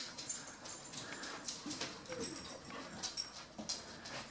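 A puppy whimpers and pants softly at close range indoors during hurricane preparations, with faint household noise around it.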